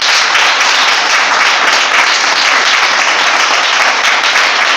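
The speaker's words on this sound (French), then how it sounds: "Une décision fortement applaudie par les responsables du dit parti." Dense, loud applause from officials at a political party event in Benin, steady and unbroken throughout, with no voices standing out above the clapping.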